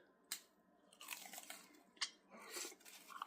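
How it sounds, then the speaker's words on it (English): Crisp crunching bites into a fried taco shell with green chili and salsa sound close up, a few sharp cracks followed by quieter munching, with no talking. "I don't know if you could have heard that crunch when I ate that"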